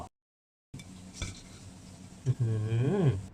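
Sun-dried beef strips fry in hot oil, a soft steady sizzle punctuated by the clatter of a utensil stirring in the pan, close and fairly quiet.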